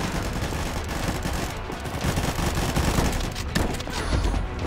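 Rapid, dense gunfire from a 12-gauge shotgun in the shooter game Combat Master, with shots cracking in quick succession and overlapping loud blasts throughout.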